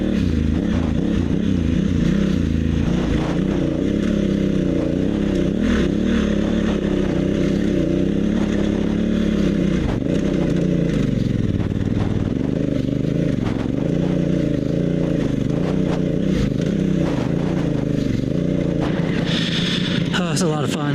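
An adventure motorcycle on Motoz Tractionator 50/50 tires climbs dirt hills, its engine droning loud and continuous with rising and falling revs as it labors up the slopes.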